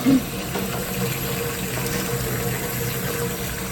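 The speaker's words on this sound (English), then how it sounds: "Fill in the bowl with hot water so that when we toss the sauce and the pasta in together" Hot water running steadily into a bowl for making pasta carbonara, a continuous close gushing fill with a brief louder splash at the start.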